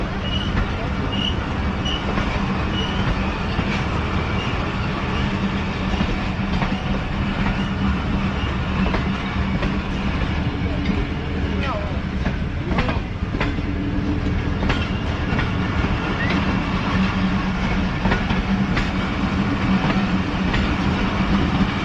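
The Awam Express passenger train at Taxila Cantonment station in Pakistan, a loud, continuous rumble of rolling coaches with rhythmic rail clatter and clicks, with voices mixed faintly under the noise.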